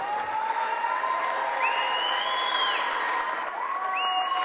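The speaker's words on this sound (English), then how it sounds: "the crowd's cheering for Danny Colabello" A crowd at a wrestling tournament cheers and applauds in a steady wash of noise, with faint whistle-like tones rising above it.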